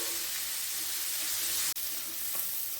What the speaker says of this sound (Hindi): अब इसे हम सौते करेंगे ब्राउन होने तक।